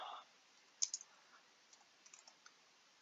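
Keys tapped on a computer keyboard while a place name is typed into a mapping program: a handful of faint, sparse clicks in a quiet room, with a brief murmur at the very start.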